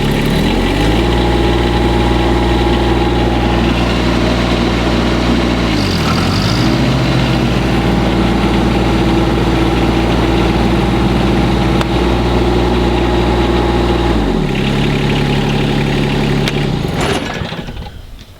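Loud, close John Deere X758 diesel tractor engine with a steady droning hum that dips briefly twice as the revs change, holding constant before winding down at the end.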